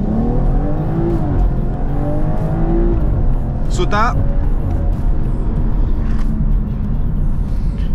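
A BMW 540i in Sport Plus mode launches with launch control and accelerates hard toward 100 km/h, the engine droning loud and continuous with rising gear sweeps and a brief shift, while someone speaks briefly inside the car.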